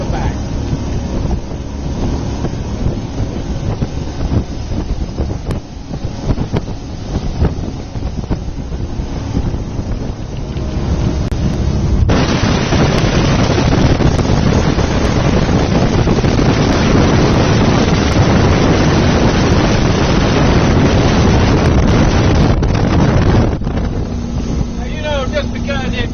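2002 Cobalt 282 Bowrider motorboat cruising fast at about 3,500 RPM and 42 mph, a loud continuous engine drone mixed with hull and water rush and heavy wind buffeting, with someone talking over it.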